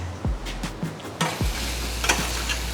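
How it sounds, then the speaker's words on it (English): Jerusalem artichokes being stirred in a hot pan, several distinct scraping and clattering stir strokes over a continuous close sizzle, with a low steady hum underneath and no voices. "I'm going to add the Jerusalem artichokes to this dish. And then I'm going to give it a quick stir"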